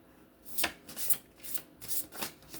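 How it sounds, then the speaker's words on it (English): Tarot cards being shuffled and pulled, heard close up as a series of crisp riffling and sliding bursts of card against card, with no talking. "Let's go ahead and pull more cards on this read."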